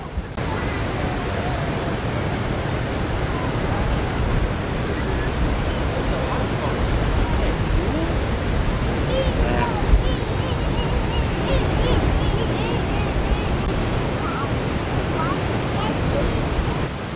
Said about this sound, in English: we made it to the horseshoe part of the waterfalls.